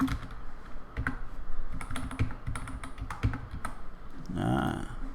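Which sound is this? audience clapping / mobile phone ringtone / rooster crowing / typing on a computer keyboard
typing on a computer keyboard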